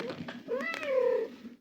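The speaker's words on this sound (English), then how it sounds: "When I visit Allison Wright's home, there's a little mama cat named Gretel chasing down a litter of adopted kittens to give them tongue baths" A mother cat and her litter of adopted kittens meow close by, one clear rising-and-falling meow standing out over softer mews, with faint voices in the background.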